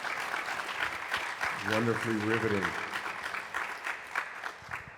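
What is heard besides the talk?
applause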